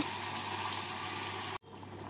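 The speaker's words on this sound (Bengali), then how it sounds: "মিক্সির জারটা ধুয়ে জল দিয়ে দেবো অল্প" A little water poured from a freshly rinsed mixer jar into a pan of browned onions and ground spice paste for soybean ghugni, a steady, close pour of splashing liquid that stops abruptly near the end.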